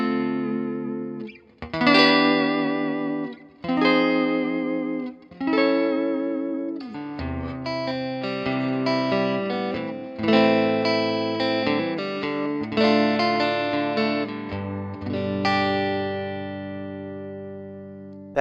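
Clean electric guitar through a Blackstar HT5R tube amp plays chords and single notes with a warm amplified tone and light effects, ringing out alone.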